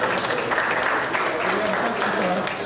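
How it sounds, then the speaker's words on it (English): An audience applauds a panel of speakers, steady dense clapping filling the room with voices murmuring underneath throughout. "Let's give them a nice round of applause."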